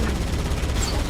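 Rapid gunfire in a video game, a brief, dense, rumbling burst that stays loud and steady throughout.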